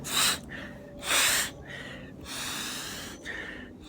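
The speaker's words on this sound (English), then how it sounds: "Got the sniffles." Several sharp nasal sniffs in a row, close to the mic, with short pauses and a longer drawn breath in between.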